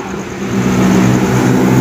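A bus in an Indonesian mudik homecoming convoy rolls along the road, its steady low engine drone swelling slightly as it draws nearer, with no voices.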